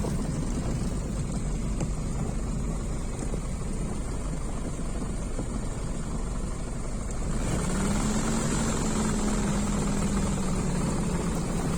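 A light aircraft taxis after a flight over the Vercors with a steady, loud propeller-engine drone throughout, and a rising whine joins partway through.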